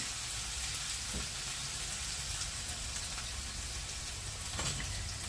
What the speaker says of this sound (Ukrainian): Нам потрібно, щоб цибулька присмажилась.